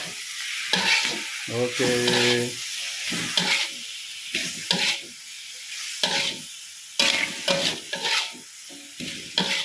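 Capcay vegetables are stirred in a hot pan with chicken broth seasoning, salt and sugar: loud bursts of sizzling and scraping come in uneven waves with short pauses between, close up, and one brief spoken word.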